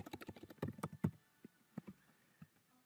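Quiet, irregular keyboard typing, a quick burst of keystrokes followed by a few scattered taps with short pauses between.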